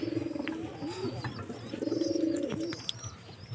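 Pigeons coo repeatedly in low, rolling phrases from close by, kept as breeding pairs in an open spot, with faint chirps and light background noise between calls.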